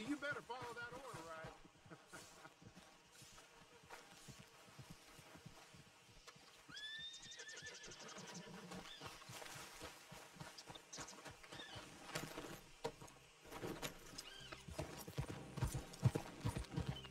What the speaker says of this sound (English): tô gostando desse cavalo aqui, tá correndo bem